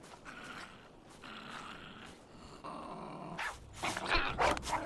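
Dogs in the survival game Survival: Fountain of Youth growl low and rough in several bursts, with sharper snarls near the end, at moderate loudness and without talk.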